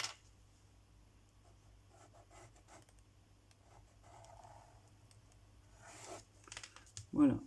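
A pen drawing crossed lines on an envelope, with soft intermittent scratching strokes close by, faint and uneven against a low hum, ending with a louder handling noise.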